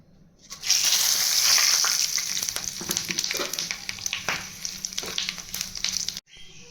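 Cumin, cardamom, cloves, cinnamon and a bay leaf drop into hot oil and burst into a loud, bright sizzle that crackles and pops steadily for several seconds before cutting off abruptly.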